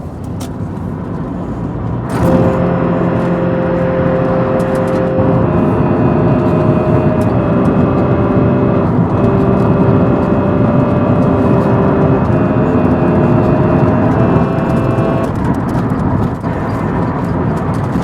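A car engine drones steadily from inside the cabin on a bumpy road, with tonal whine shifting as it drives, loud and continuous throughout.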